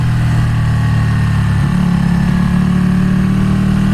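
Superbike engine droning steadily while riding, a loud sustained mid-pitched hum whose tone rises slightly partway through as revs shift, heard close with wind noise.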